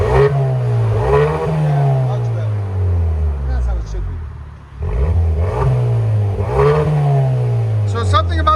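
Revving exhaust of a 2024 Hyundai Sonata N-Line 2.5L with Valvetronic valves open: loud, close engine drone rising and falling through three rev swells, with a brief dip near the middle.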